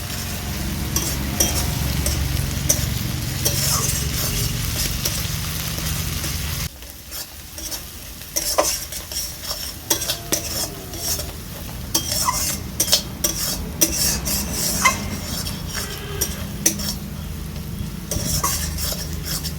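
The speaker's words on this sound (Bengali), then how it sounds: "সামান্য একটু জল দিয়ে দিচ্ছি, ভালো করে এবার এটা কষতে থাকবো।" Egg curry masala with onion, garlic and ginger sizzles in a pan after a splash of water, with steady frying hiss and repeated scraping, clinking stirs of a spoon against the metal, loud and close, no voices.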